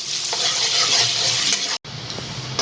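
Crushed garlic sautéing in a pan for street-style pasta, a loud close continuous sizzle with stirring scrapes, broken by a split-second cut of silence.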